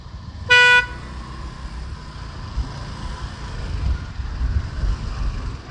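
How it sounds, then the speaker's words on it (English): A single short car horn honk sounds near the start over a steady low rumble of street traffic in Ho Chi Minh City, heard from a moving motorbike. "Traffic."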